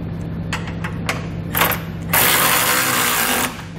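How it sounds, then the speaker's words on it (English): A 15 mm socket wrench ratchets as it tightens factory nuts on the lower bumper section of a 2020 Chevrolet during a trailer hitch install, giving short clicking bursts and then a longer, steady run of ratcheting, close up with no talk. "tighten up the factory nuts that were on the lower bumper section, and we're going to use that same 15 millimeter socket"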